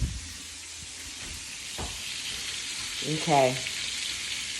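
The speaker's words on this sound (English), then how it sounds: "So this is how your chicken should be fried" Chicken frying in hot oil on a home stove, a steady loud sizzle and hiss running throughout, with a short spoken word from a woman partway through.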